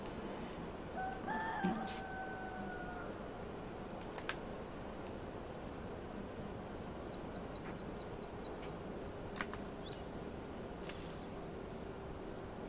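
Chickens at a coop in Farming Simulator 25, with faint clucks and a brief crow early on, then scattered soft chirps over a constant low background hum.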